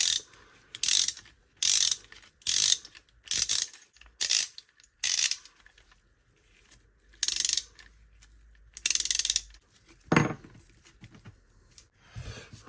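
An 8-in-1 ratchet wrench from ALDI clicking in bursts, roughly a dozen quick runs of close, crisp ratcheting, each about half a second long, separated by short silent pauses and one slower drawn-out turn near the end.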